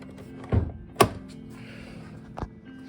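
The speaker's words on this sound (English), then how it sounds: "let's go ahead and pop the hood." Hood release on an Audi S6 being pulled and the hood popped: a few soft mechanical thunks and clicks, close and fairly quiet, spaced about a second apart.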